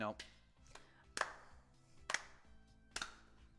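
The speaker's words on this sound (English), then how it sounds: "Nice slow clap for him." A few slow, evenly spaced hand claps, about one per second, crisp and fairly close, with faint background noise between them.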